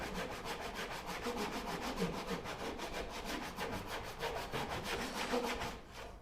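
Hand saw cutting through the thin plate of a Moxon vise in wood, a steady rasping back-and-forth stroke about five times a second, close and loud, stopping just before the end.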